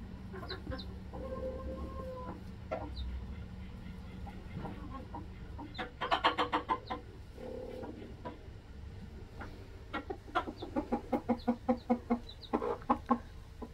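A hen clucks close by in short rhythmic bursts, with quieter soft calls in between and a steady low background hum.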